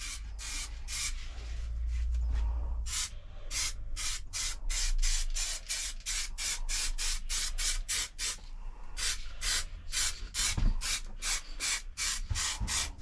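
A car panel on a Rover Streetwise being spray painted at home, heard as a series of short rhythmic hissing bursts of the spray gun, close and repeated steadily with brief pauses between.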